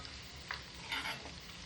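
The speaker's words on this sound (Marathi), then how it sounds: "आता ह्याच्यामध्ये आपण लसूण टाकून घेऊया। लसूण चांगला परतून घेऊया।" Garlic sautéing in a pan for a quick raw mango pickle, as a faint, even sizzle with a couple of soft stirring scrapes, quiet and close, with no voices.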